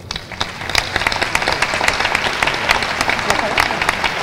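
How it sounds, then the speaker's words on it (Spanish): Audience applause at a formal gathering following a call for a big round of applause, dense steady clapping from a crowd lasting throughout, fairly close and loud with occasional sharper individual claps. "Yo quisiera que le brindáramos un fuerte aplauso."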